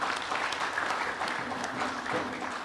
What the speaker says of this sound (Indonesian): Mari kita berikan aplaus bersama-sama.